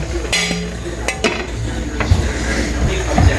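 A pot of squid adobo with chili stirred by a metal spoon and then covered with a lid, giving close clanks, scrapes and a few sharp metallic knocks over a low kitchen hum.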